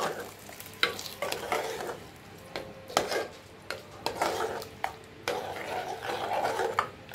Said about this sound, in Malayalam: നമുക്കിനി ഇതെല്ലാം കൂടെ ഒന്ന് ഇളക്കി കൊടുക്കാം